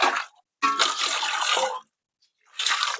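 Water is poured over dishes during washing in three loud splashing bursts with short silent gaps between them, close by and with no talking.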